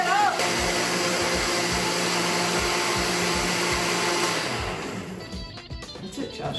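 Blender pureeing seasoning with orange juice and pork, a loud, steady whirring roar that holds for several seconds before easing down.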